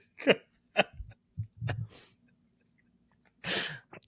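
A single sharp sneeze bursts out near the end after a few short breathy gasps and hiccup-like catches, close and loud in an otherwise quiet room.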